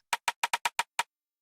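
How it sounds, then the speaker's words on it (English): Seven dry, bright rim shot hits from an FL Studio Afro swing beat, played alone in a quick, slightly uneven groove with short sharp clicks and clean silence between strikes. "then we have another rim shot,"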